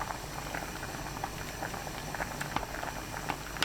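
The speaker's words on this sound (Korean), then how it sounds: "센 불로 1분 30초 바글바글 끓여줍니다" A pot of cheonggukjang stew with soft tofu boils hard over high heat, a dense, steady bubbling and popping close up, with no voices.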